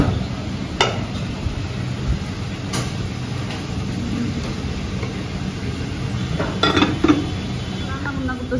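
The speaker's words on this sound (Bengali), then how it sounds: "আমি এখন চিকেন ফ্রাই করতেছি" Chicken frying in a pan in a home kitchen, a steady close sizzle running throughout with occasional clinks and scrapes of utensils against the pan, no talking.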